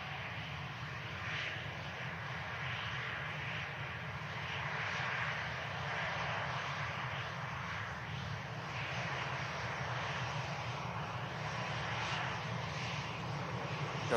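A KLM airliner comes in to touch down at Manchester Airport, a steady broadband engine rumble and whine holding evenly throughout, moderately distant, with no talk over it.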